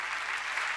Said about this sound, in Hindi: जोरदार तालियां इस बात पे बजाएं